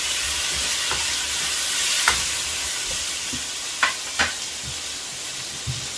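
Sauce seasoned with half a teaspoon of black pepper powder sizzles steadily in a pan for sweet and sour chicken, a constant frying hiss with a few sharp spoon taps and stirring scrapes near the middle and end.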